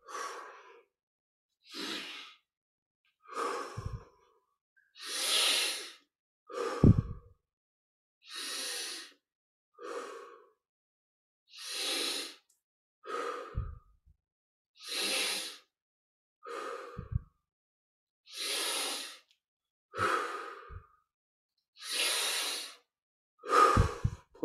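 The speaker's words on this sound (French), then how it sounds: "On augmente progressivement l'amplitude à chaque respire." Deep, slow breaths during a guided yoga meditation, about a dozen long airy inhales and exhales in a steady rhythm with silent gaps between them, close and soft, with no talk.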